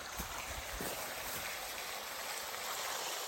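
Water pouring out of the pipe of a solar-powered well pump, a steady close hiss and splash of flow running continuously with no talk.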